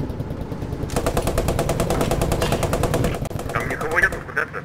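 Rapid machine-gun bursts ring out in the World War II video game Post Scriptum, loud and continuous with a staccato rhythm. Distant shots and radio chatter sit underneath, and people talk over the fire near the end.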